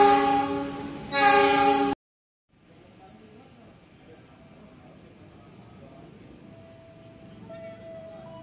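A train horn sounds in a loud blast lasting about two seconds as a train arrives at Jatinegara station, then cuts off, leaving a quiet, low station rumble with faint tones.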